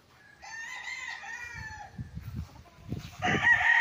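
Rooster crowing at a farm's chicken coops, a long bright crow at the start and another near the end, while low clucking from hens sputters close by in between.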